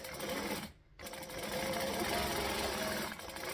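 A close sewing machine runs at 2.5 stitch length, stitching forward, pausing for a moment, then backstitching with a steady rapid hum and clatter.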